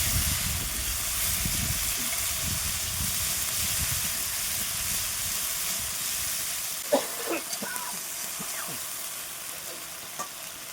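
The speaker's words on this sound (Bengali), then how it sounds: "এবার একটু কষিয়ে নেব।" Spice paste sizzling and being stirred in hot oil with black cumin and dried red chilli for a Bengali mango sour curry, a steady frying hiss with a few sharp scraping stirs near the end.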